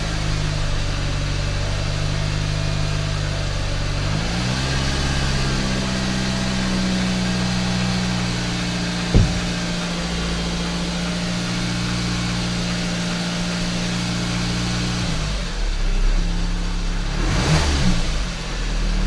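A Hyundai i45 car engine running steadily after a fuel-system fix, with air still in the fuel lines: a loud continuous idle hum with a brief knock, then a couple of revs rising near the end, no talking.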